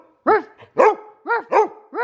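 Dog barking in five sharp, loud, close barks spaced roughly evenly apart, with near silence between them and no talk.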